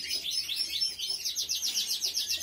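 Pet birds kept for breeding chirp in rapid repeated trills, a dense bright twittering that runs continuously at moderate loudness with no talk.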